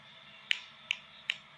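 A pet raw parrot produces three sharp, evenly spaced snapping clicks that imitate a human finger snap, close and crisp against a quiet background.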